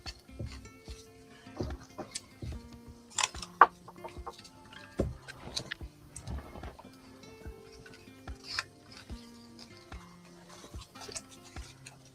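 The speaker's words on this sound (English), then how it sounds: "Douglas found a bird in the park." A bird found in a park clucks and calls in short, irregular bursts close by, with soft clicks and ticks scattered between the calls and no speech.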